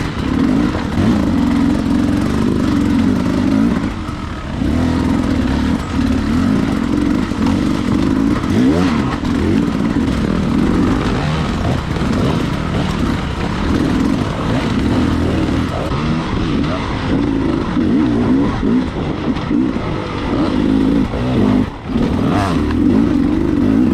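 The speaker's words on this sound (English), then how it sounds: "Full on diesel locomotive chug mode through the rock garden sections here." A motorcycle engine chugs at low revs through a rocky rock-garden section of a hard enduro race, a loud, steady, close-up drone with slight rhythmic pulsing and no talk.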